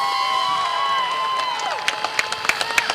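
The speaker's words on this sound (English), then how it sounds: "Give him a nice round of applause" Spectators at a dirt-track speedway in Plattsburgh, New York cheer and clap for the Sportsman Modifieds winner, with a crowd roar and sharp claps growing louder toward the end.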